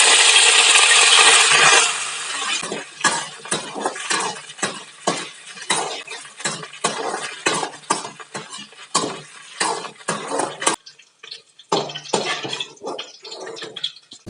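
Mustard seeds spluttering in hot coconut oil, starting with a loud frying hiss and then breaking into a rapid run of sharp pops and crackles close by, no talk.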